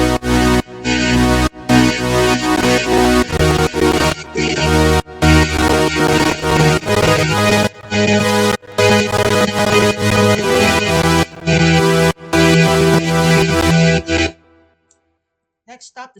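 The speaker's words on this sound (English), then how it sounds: "Next up, another pad." A layered synth pad from an FL Studio dance track, playing loud sustained chords with rhythmic gated chops and a few short breaks, then cutting off near the end into a brief faint tail.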